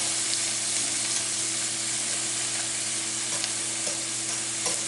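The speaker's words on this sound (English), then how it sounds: "just keep stirring them, get them moved around" Pizza toppings frying in a pan while being stirred, a steady close sizzle with light scraping from the spoon running continuously throughout.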